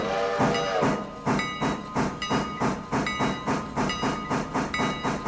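A locomotive in the railroad game Railroader chugs along the rails with a rapid, steady rhythm of loud exhaust beats and hiss, continuous throughout and up close, with no talk over it.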